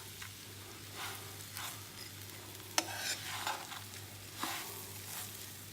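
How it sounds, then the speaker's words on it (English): Basmati rice grains frying in a pan sizzle softly and steadily, broken by several scraping stirs of a utensil at a quiet, close level with no talking. "I need to fry the rice grains till they are fragrant"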